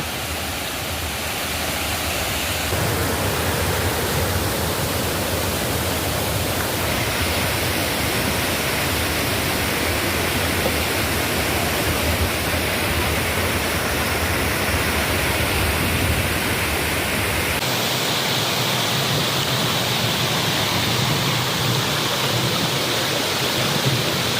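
Langvoku waterfall in Karbi Anglong roars as a loud, steady wash of falling water, a dense unbroken rush that fills the whole scene close by.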